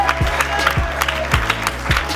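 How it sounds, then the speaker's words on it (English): A church program audience applauds for a guest. The clapping is moderately loud and steady, and repeated low thumps, likely music or a beat, run underneath at a regular pulse. "Come on, y'all, give Miss T a round of"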